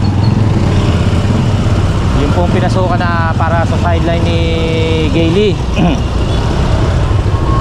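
Heavy road traffic with motorcycles, a continuous loud engine rumble and roadway noise throughout, with passing motorcycle engines revving and whining, under someone talking nearby.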